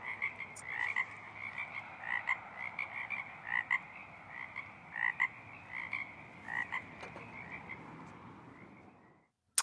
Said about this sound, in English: I can hear this frog almost beneath my footsteps.